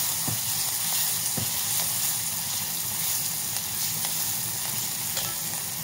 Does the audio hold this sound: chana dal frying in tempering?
yes